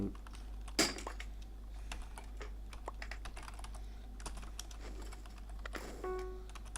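Someone types on a computer keyboard to rename something in Minecraft, giving quick, faint key clicks in irregular bursts with a low steady hum underneath.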